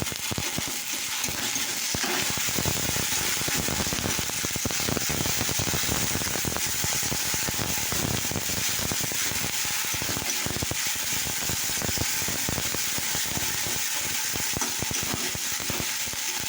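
Ginger-garlic paste hitting hot oil in a pan, a loud, dense, continuous crackling sizzle that holds steady throughout, no voices.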